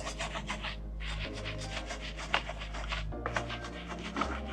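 A brush scrubs a car wheel coated with brake dust, giving a steady, continuous rubbing and rasping sound, close up and fairly quiet, with a low hum running underneath.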